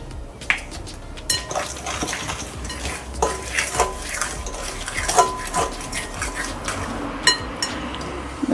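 Sugar and melted butter going into a mixing bowl for banana bread, with repeated clinks of a utensil against the bowl and scraping and stirring, close and clear, no talking.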